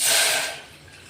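About a glass of water is poured into a cooking pot for boiling corn, a short bright splashing gush that fades quickly.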